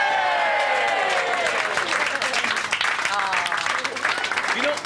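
Studio audience at a TV soap-opera event breaks into sustained, loud applause and cheering for a newly married couple, dense clapping with crowd voices filling the whole stretch.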